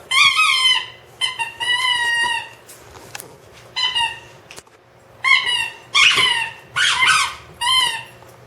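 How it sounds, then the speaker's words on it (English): A boxer dog plays with a squeaky toy, giving bursts of sharp, high squeaks in a lively, uneven rhythm, close and loud, with short pauses between clusters and no talk. "Happiness for a boxer is playing with the squeaky toy."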